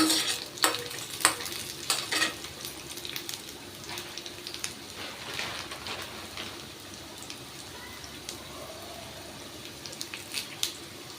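Ginger and curry leaves being sautéed in a pan, with a soft steady sizzle and intermittent scraping stir strokes, fairly quiet and close, no voices.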